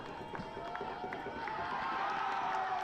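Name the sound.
soccer crowd cheering after a goal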